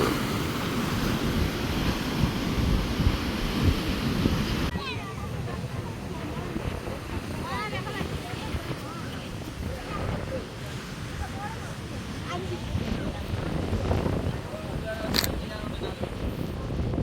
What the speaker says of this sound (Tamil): வந்து கடல் கடுமையான சீற்றம் கொள்ளுது பாருங்க கடல் அடி எவ்வளோ